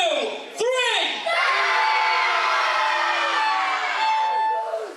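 A crowd at a KGW wrestling show in Holbeck erupting into loud cheering and screaming, rising abruptly after a brief lull and holding steady at full volume, with a few sharp whistles cutting through near the start.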